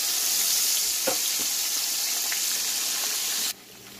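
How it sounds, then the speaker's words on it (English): Loud, constant sizzling of chicken wings frying in oil with a few crackles, close up, cutting off abruptly near the end. "Yeah, we are frying it."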